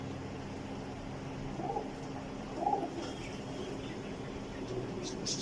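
A Sialkoti female pigeon gives a couple of soft, low coos, spaced apart, over steady background hum with no clear talk.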